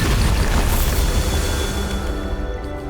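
A Bombarda spell explodes in the Hogwarts Legacy video game, a loud, dense booming blast with a rumbling roar that fills the short moment and fades only slightly toward the end.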